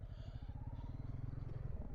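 Honda CRF300 motorcycle paddled through deep water on a Portuguese country track, its single-cylinder engine chugging in a fast low pulsing rhythm, faint and close, with no talk over it.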